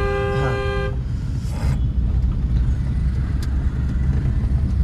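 A car horn blares in one sustained honk of about a second, then a steady engine and road rumble carries on underneath.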